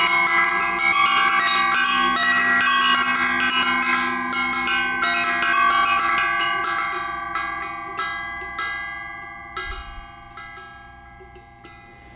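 A rustic-looking bell, about ten inches, rings out loud and clear with a bright, sustained metallic tone, then a series of lighter strikes whose decays fade one after another toward the end.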